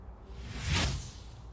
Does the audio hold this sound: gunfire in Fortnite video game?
no